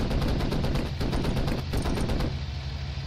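Rapid bursts of Bf109 cannon fire in the game Cliffs of Dover, a dense run of heavy, booming shots with little pause between them.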